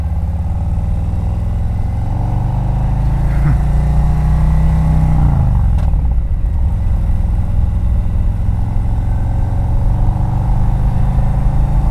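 A Harley-Davidson Road King Special touring motorcycle engine running steadily and loud, with a deep continuous rumble and a brief shift in pitch midway.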